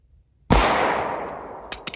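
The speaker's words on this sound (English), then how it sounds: "draw, fire 1 round, slide, lock, reload, reload really quick, drop, slide, fire 1 more" A single loud pistol shot cracks out at close range during a draw, fire and reload drill, followed by a decaying echo and a few small metallic clicks.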